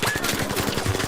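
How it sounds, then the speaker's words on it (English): Rapid automatic gunfire in a video game, a close, loud and continuous stream of evenly spaced shots lasting the whole moment. "Oh, they're all fucking shooting"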